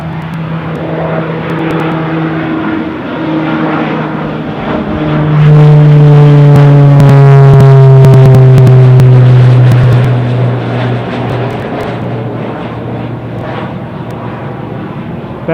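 Beechcraft Super King Air turboprop at Newcastle airport on a wet, rainy day, a loud propeller drone that swells and sweeps down in pitch as it passes close by, then fades to a steady hum.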